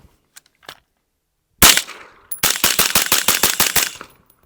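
Rifle fired through a Dead Air Lazarus 6 suppressor: one sharp, loud shot, then a rapid string of about nine close, even cracks in quick succession.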